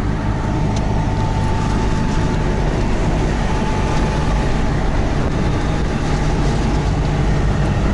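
A Trabant 601 driving with its engine pulling under acceleration, a loud, steady, rough drone heard from inside the car without pause and with no voices.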